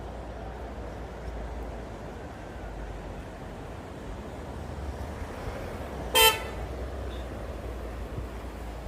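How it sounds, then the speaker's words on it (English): A car gives one brief, sharp horn toot at a roundabout intersection near Copacabana Beach, Australia. It cuts through a steady bed of traffic and surf-like background noise, with no talk. "One car bipping at another car at the roundabout here"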